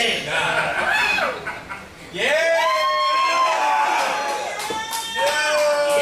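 Crowd at Stomping Ground Studios during a wrestling show, with rising whoops, shouts and laughter from spectators swelling in waves, fairly loud and close, mixed with individual voices.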